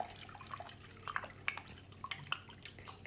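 Water swirls and drips inside a water tornado bottle, a soft trickle broken by small plinks and gurgles, faint and close.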